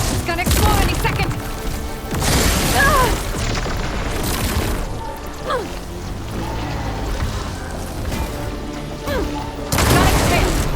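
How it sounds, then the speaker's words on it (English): Several heavy booms and bursts from a machine exploding during combat in the game Horizon Forbidden West, loud and spread through the clip over dense battle sound and music. "It's gonna explode any second."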